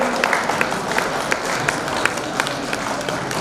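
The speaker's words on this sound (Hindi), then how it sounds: "और तालियां प्रशांत चौहान के लिए।" A hall audience applauds an under-15 chess champion at a tournament prize ceremony, a continuous dense wash of many hands clapping, steady and moderately loud with no break.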